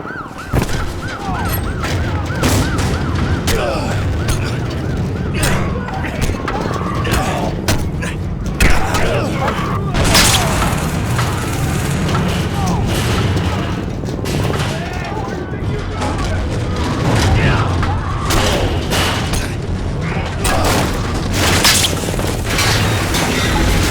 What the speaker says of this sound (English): The cop sirens begins and it's just chaos in this whole level.